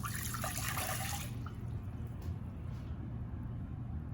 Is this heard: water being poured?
yes